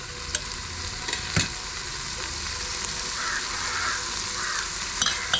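Onions sizzling in a pan with green chillies and coriander, the base for a Thalasseri mutton dum biryani, as a spatula stirs them with a steady hiss and a few sharp scrapes and knocks.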